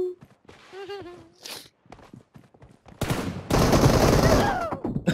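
Gunfire in a shooter video game, starting with scattered shots and footsteps, then a loud, sustained burst of rapid automatic fire. A person talks over the early part.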